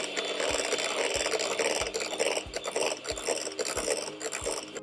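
Cream cheese being blended into non-dairy whipped cream, a steady whirring, scraping drone with regular soft thumps roughly every two thirds of a second, close and continuous throughout.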